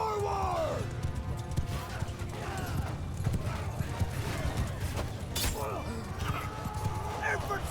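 Horses gallop in a Mount & Blade II Bannerlord battle, with rapid, steady hoofbeats and occasional whinnies, clashing impacts and crashes in a busy mix under a talking voice.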